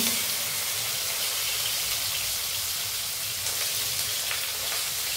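Long-cut slices of salted bitter gourd fry in hot oil in a wok, giving a loud, steady, dense sizzle that holds without a break throughout.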